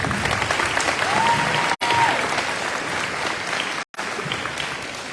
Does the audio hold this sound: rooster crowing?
no